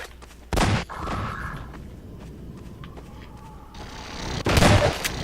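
Gunfire from a non-player character shooting at a bug creature in Half-Life 2, two loud bursts near the start and end with quieter footsteps and game ambience between, no talking.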